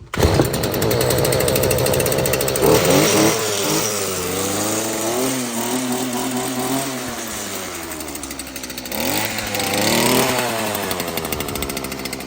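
A Stihl FS55 string trimmer with a replacement muffler lacking a spark arrestor starts up and runs, its small two-stroke engine buzzing loudly and revving up and down, close by with no voices.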